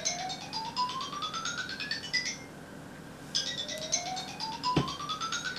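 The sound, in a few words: unfamiliar mobile phone ringtone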